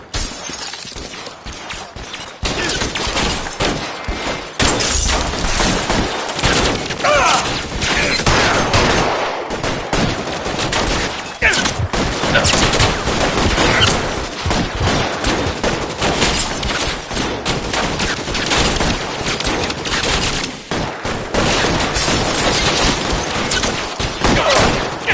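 A shootout in the video game L.A. Noire brings a dense, loud, nonstop barrage of gunfire mixed with cracking and shattering impacts, sustained for about twenty-five seconds without a break.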